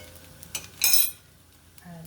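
Smoked paprika and spices being stirred through beef chilli in a pan: a few close clinks and a short scraping, metallic burst of utensil against the pan, quiet and brief.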